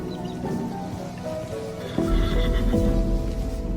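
A horse whinnies loudly and clearly with no talk, followed by a lower, heavier snort or burst of motion, with faint hoof clatter and rain-like patter in the background.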